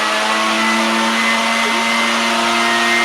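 Leaf blower running steadily close by, a continuous loud motorized whir with a constant pitch for the whole stretch, no voices over it.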